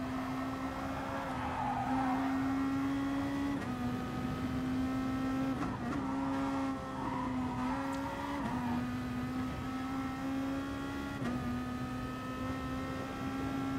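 A Nissan GT-R race car engine in Gran Turismo Sport drones steadily at high revs, dipping briefly between gear changes every few seconds, with no voices over it.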